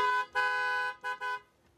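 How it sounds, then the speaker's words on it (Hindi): Dual horn setup fitted to a 2024 Kia Sonet HTE(O), sounding in three loud, close honks, the first two longer and the last short, with no talk over them. "इसके अंदर डुअल हॉर्न सेटअप इंस्टॉल करा है, तो वो मैं आपको सुनवा देता हूँ एक बार।"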